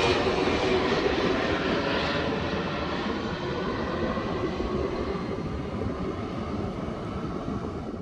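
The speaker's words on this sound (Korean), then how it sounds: "이곳은 영종도와 가까워서 비행기가 참 낮게 날더라고요." An airplane flies low overhead near Yeongjongdo island, a loud continuous engine roar and rumble that stays strong throughout and fades only slightly, with no talking.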